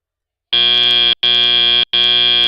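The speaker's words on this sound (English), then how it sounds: "That buzzer indicates the end" A loud, harsh electronic buzzer at an FTC robotics scrimmage sounds three times in quick succession, each blast about half a second long with brief gaps between.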